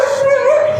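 A dog in an Old San Juan street giving a single drawn-out, whining, howl-like bark, close and loud, lasting under a second.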